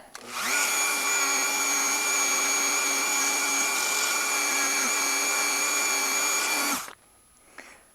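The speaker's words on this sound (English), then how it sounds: "I might as well hit that polisher on this side" A polisher works a 1911 pistol part, a loud, steady high motor whine holding for about six seconds before it cuts off abruptly, leaving near silence.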